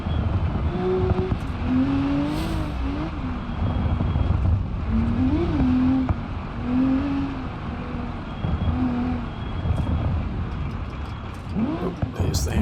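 Car engine in the BeamNG.drive video game during a Utah time trial with water crossings, droning steadily and shifting pitch with throttle and gear changes throughout, with a voice talking over it.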